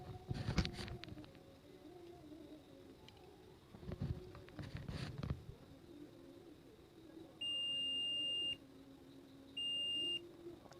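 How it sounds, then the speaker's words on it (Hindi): Two steady electronic beeps from a multimeter in continuity buzzer mode testing a shorted diode on a phone board, the first about a second long and the second shorter, after some faint clicks and handling noises. "ये दोनों तरफ ही बीप साउंड दे रहा है।"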